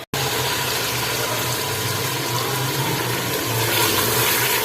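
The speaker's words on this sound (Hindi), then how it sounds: "आलू और गोश्त हमने भून लिया, इसमें डाल दूंगी पानी।" Water is poured into a pot of fried potatoes and tender mutton for aloo gosht, a steady, loud splashing rush that runs unbroken for several seconds after a brief start.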